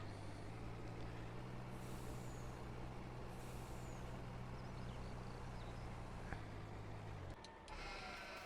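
Truck with air brakes in Farming Simulator 19, set in Western Australia: a steady low engine drone runs throughout, with a sharp air-brake hiss and release near the end, no talk.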